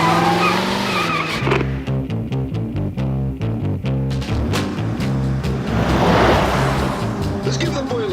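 A fast convertible car pulls away in a film scene, engine revving loudly with tires squealing as it accelerates off, a continuous close roar under a rhythmic music bed.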